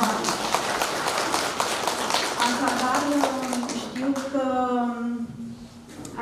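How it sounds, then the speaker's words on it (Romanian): An audience applauds a charcoal painter at a village theatre performance in Dărmănești, Romania; steady clapping fills the first half under a host's voice, then thins as a singing voice rises over the fading applause. "Aplauze pentru Vali."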